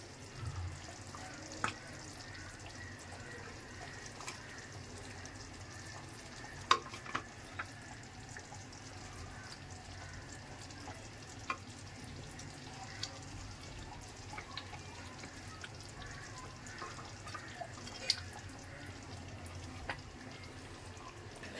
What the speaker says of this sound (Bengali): এই যে ভেজে রাখা মাছটা এখানে আমি এবার দিয়ে দেবো।